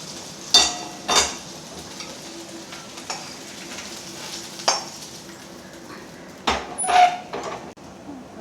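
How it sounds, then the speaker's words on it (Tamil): Okra sautéing in a pan for a Tamil vatha kuzhambu, a soft steady sizzle with a few louder stirring scrapes and clinks of a utensil against the pan, no talk. "இப்போ வெண்டைக்காய் நல்லா வதங்கி எடுத்து தனியாக எடுத்து வச்சுடலாம்"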